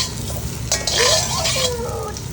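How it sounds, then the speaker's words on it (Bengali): Potato fry cooking in a pan at home, a steady close sizzle with scraping and stirring clinks from a utensil against the pan, no talk. "এটা কার আলু ফ্রাই?"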